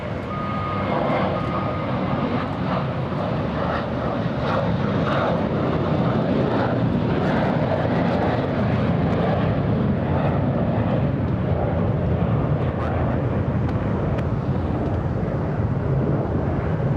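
American Airlines airliner at LAX airport departing for JFK, a loud, steady jet engine roar that stays strong throughout with no talk over it.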